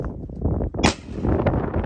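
A gunshot during shooting practice in Ethiopia's Danakil Depression: one sharp, loud crack in the middle of the clip against a noisy outdoor background, with no speech.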